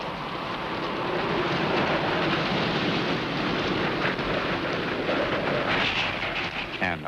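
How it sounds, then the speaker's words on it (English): Heavy thunderstorm rain roars steadily with a deep rumbling undertone like rolling thunder, loud and continuous, and voices are faintly audible beneath it, from a 1980s horror show on TV. "The storm rising and something malevolent in the air."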